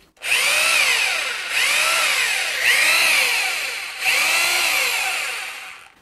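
A cheap Deko rotary hammer drill in hammer mode runs loud and close in several long bursts, its high buzzing whine dipping and recovering with each push.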